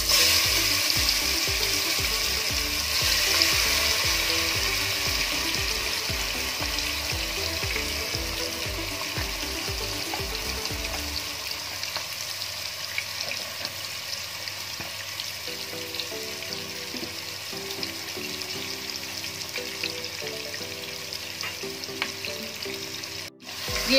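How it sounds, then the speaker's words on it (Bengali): Spice-marinated chicken dropped into a hot pan for biryani, giving a loud steady sizzle close by with some stirring clatter, the frying hiss continuing evenly throughout. "এবার আমি চিকেনটা দিয়ে দিচ্ছি, মাখা রয়েছে যে মশলা দিয়ে ছেড়ে দিচ্ছি।"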